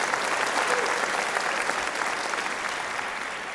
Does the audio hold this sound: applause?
yes